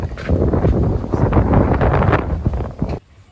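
Cold, dry wind gusts buffeting the microphone outdoors, loud rumbling bursts that rise and fall for about three seconds before cutting off to near quiet.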